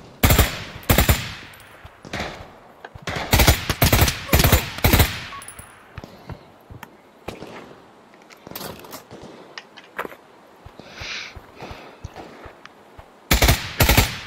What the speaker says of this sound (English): I'm heading to the gunfire.